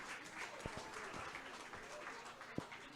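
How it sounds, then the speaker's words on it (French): Audience at a kindergarten graduation ceremony applauding, a faint, steady patter of clapping with a few sharper claps standing out, heard from a distance. "On applaudit les marguerites, cher public"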